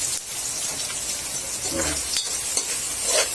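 Garlic and onion sautéing in a hot pan for caldereta, a steady loud sizzle with a spatula stirring and scraping through it in a few short strokes.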